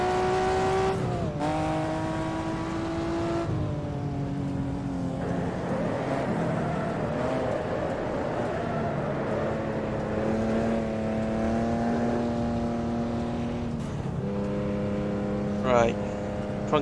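A 1958 race car at Goodwood accelerates hard out of the chicane, its engine note climbing steadily through several gear changes, loud and close throughout, with a brief sharp noise near the end.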